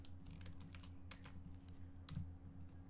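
Typing on a computer keyboard while writing code, quiet rapid key clicks in an irregular patter over a low steady hum, heard close and soft with no talking.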